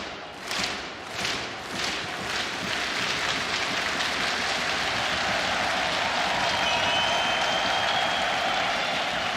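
Loud arena crowd at the PGL Major Antwerp CS:GO esports event cheers and applauds, with a few rhythmic swells of clapping at first, then a steady sustained roar of cheering.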